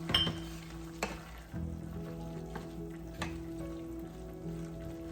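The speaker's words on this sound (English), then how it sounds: "Let's put back our fried tofu." Fried tofu goes back into a hot pan of bean sprouts, setting off a steady sizzle and crackle with a few sharp clinks of utensils, close and with no voices.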